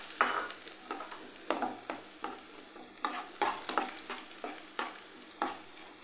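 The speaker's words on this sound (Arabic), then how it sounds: "درت هنا شويه تاع زبده شويه تاع زيت، نضيف عليهم حبيبه بصل صغيره" Small chopped onion frying in a mix of butter and oil, stirred with a spoon in regular scraping strokes roughly every half second, over a soft sizzle. The sound is close and carries no talk.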